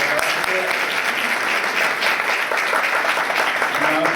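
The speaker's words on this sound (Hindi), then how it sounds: "उन लोगों के लिए तालियां बजाएं जिन लोगों ने प्लेज किया" Steady, loud applause from a large congregation at a Sunday church service, sustained and even throughout without any talking over it.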